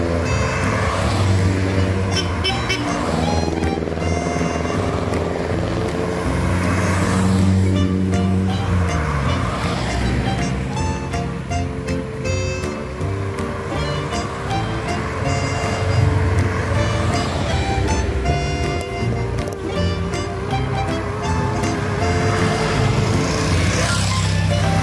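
Mitsubishi Lancer box-type cars on a New Year fun run, engines revving and driving past in a steady, loud roar with rising and falling pitch, music and voices mixed in.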